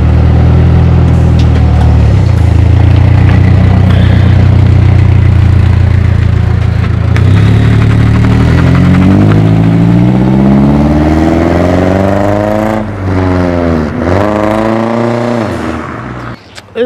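A Nissan 240SX S13 with a test pipe exhaust idles loudly and roughly, then revs up and down in several rising and falling sweeps, close and raw, with the engine note wavering near the end.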